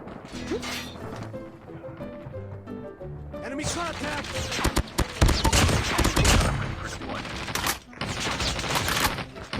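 Dense bursts of automatic gunfire and sharp impacts in the Call of Duty Mobile video game, loud and close, strongest in the second half of the clip, with brief gaps between volleys.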